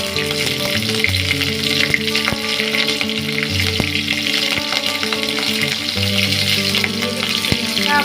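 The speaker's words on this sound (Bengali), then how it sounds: "ভালো করে ভাজিয়ে দিলাম। এবার আমি কটা কাঁচা লঙ্কাও দিয়ে দিচ্ছি।" Vegetables with green chilies fry in a pan, giving a loud, continuous sizzle with faint clinks of stirring and a low steady hum underneath.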